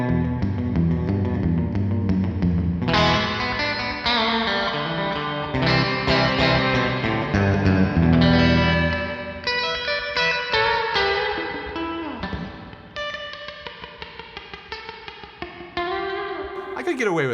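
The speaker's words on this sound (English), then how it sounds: "It's not technically like a surfy reverb, but it's smoother." Electric guitar run through a smooth studio-style reverb with a slightly sweet edge, playing sustained chords and picked notes that ring out and trail off, steady and close throughout with a brief softer stretch near the end.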